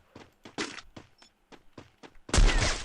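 Gunfire in a shooting video game, with a rapid series of sharp, close shots in short bursts, then a heavy, louder blast of sustained fire at the end.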